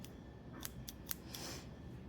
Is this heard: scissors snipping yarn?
yes